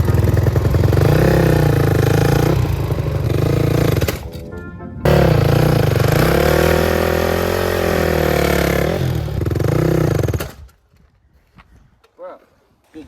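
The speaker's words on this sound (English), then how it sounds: "I think it seems only right though to burn off the rest of this tire" A dirt bike engine revs hard while spinning off a duct-taped tire, a loud buzzing roar that rises and falls in long pulls, briefly dropping out midway, then cutting to quiet with faint voices.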